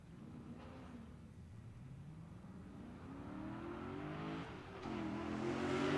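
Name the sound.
2011 Corvette Z06 (C6) accelerating down drag strip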